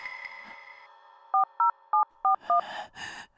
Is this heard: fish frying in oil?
no